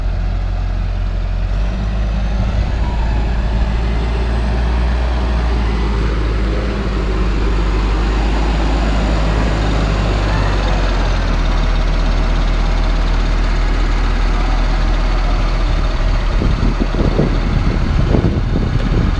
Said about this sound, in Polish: silnik pięknie chodzi